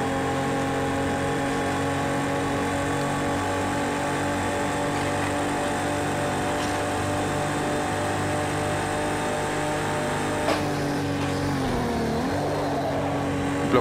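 A race car engine in the video game Project Cars 2, in a Ford versus Ferrari race at Spa, holds a loud, steady high-revving drone, with a brief dip and recovery in pitch toward the end.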